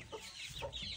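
A mother hen with chicks clucks softly in a few short, throaty bursts, close by, with no voices.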